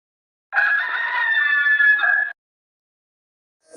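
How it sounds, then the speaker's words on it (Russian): A rooster gives one long, loud, sustained cock-a-doodle-doo close by, then silence. "Петух кричит."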